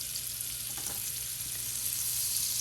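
Butter, about three or four tablespoons, melting in a hot pan before potatoes go in, giving a steady, even sizzle and crackle throughout with no talking.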